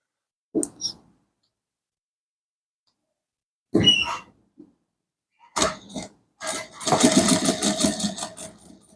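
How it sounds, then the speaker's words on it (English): A sewing machine double-stitching the welt pocket on a pair of chinos, running in short separate bursts that build to a longer continuous whirring run near the end. "Stitch out through to these very points."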